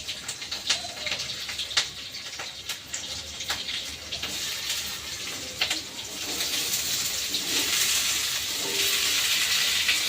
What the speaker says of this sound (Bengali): চলো আলুটা একটু ভাজা ভাজা হোক